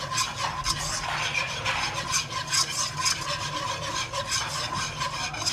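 A butter and white flour roux being stirred in a pan for homemade Italian pasta sauce, with steady close scraping and rubbing strokes in a continuous rhythm, with no talking.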